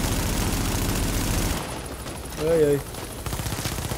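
Rapid, loud machine-gun fire from The Division rattles for the first second and a half, then drops away while a man cries out briefly, and fire picks up again more quietly near the end.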